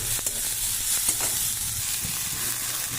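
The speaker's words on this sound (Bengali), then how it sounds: "ভেজে রাখা ছাতু সব ভালো করে নেড়ে নেবো" Fried sattu (chhatu) is stirred in a pan, giving a dense, steady sizzle with soft scraping strokes, close and continuous through the short stretch.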